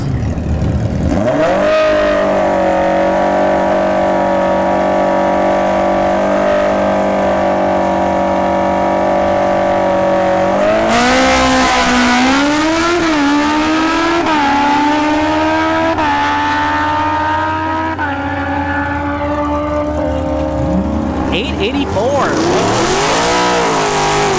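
Two drag race cars, CX14 in the left lane and a Busa on the right, launch together at Bradenton Motorsports Park, engines holding a loud sustained drone before climbing through revs with a rising scream and brief tire squeal.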